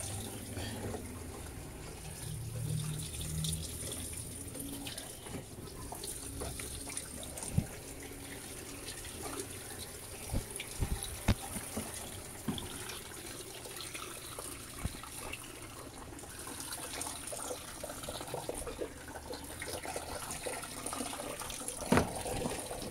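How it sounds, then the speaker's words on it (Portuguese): An Electrolux LES-series washing machine draws in water at low pressure, a faint, steady hiss of filling lasting over twenty seconds with occasional small clicks and knocks. "A pressão da água aqui tá meio ruim."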